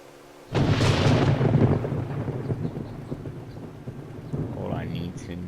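Thunder during a storm in the survival game 7 Days to Die: a sudden loud crack bursts in after silence and rolls into a long fading rumble, with a voice talking partly over it.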